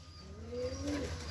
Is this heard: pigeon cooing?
yes